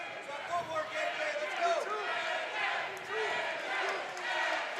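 A boxing match crowd at a featherweight tournament quarterfinal in the local fighter's hometown cheers and shouts in a steady, swelling roar, with people yelling throughout.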